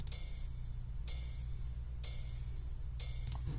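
A lone hi-hat sample ticks four times at an even pace, short bright hits over a low steady hum, with no voices.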